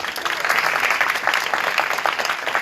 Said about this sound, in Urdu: ان کے لیے تالیاں بجائیے